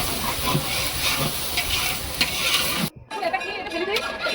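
A large wok of mixed vegetables fries with a loud, busy sizzle and stirring that cuts out sharply, followed by quieter background sounds and faint voices.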